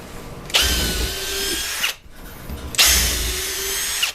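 A Milwaukee M18 Fuel cordless drill bores 3/16-inch holes into a 2x4 in two loud, close bursts of high-speed whirring, each lasting about one and a half seconds, with a short pause between them.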